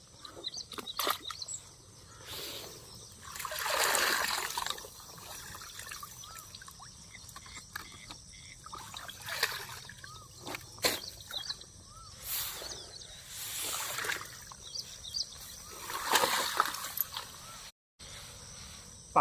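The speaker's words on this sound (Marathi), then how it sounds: "पिंजरे सुद्धा धिवून निघतात, खेकडे सुद्धा आहे ना धिवून निघतात." Crab cages and crabs being washed in water, with intermittent splashing and pouring surges, trickles and drips outdoors, fairly faint with background birds or insects and no clear talk.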